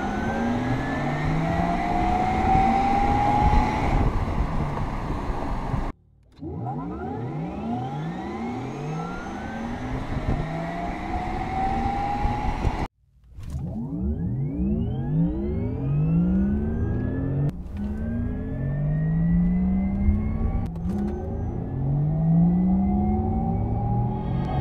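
A Porsche Taycan electric car passes repeatedly, each pass a loud whooshing sweep of electric whine and tyre rumble that swells and fades, with brief quiet gaps between runs and no talk.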